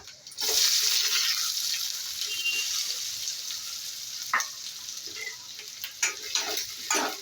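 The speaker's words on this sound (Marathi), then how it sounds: "तेल गरम झाल्यानंतर त्याच्यामध्ये अर्धा चमचा जिरे कांदा" Cumin seeds and onion hitting hot oil for Kolhapuri chicken, a sudden loud hiss that settles into a steady sizzle with occasional stirring knocks, close and uninterrupted by speech.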